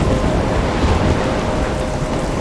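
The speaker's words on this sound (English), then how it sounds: "I'm trapped in a storm?" Steady heavy rain with a low thunderstorm rumble in the video game Life is Strange, a dense, continuous wash of noise with no voices.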